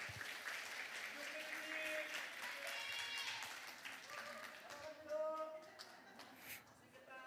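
A lecture-hall audience at a Sebasi talk in Gwangju claps steadily to welcome a speaker, a soft, fairly distant wash of applause that thins out toward the end.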